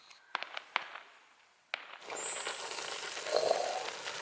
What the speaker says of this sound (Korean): 폭죽한다 폭죽.